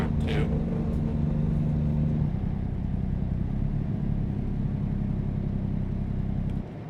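A heavy truck engine drones loudly and steadily in American Truck Simulator, with a rough low rumble through the clip and a brief sharper burst near the start, then the level drops off at the end.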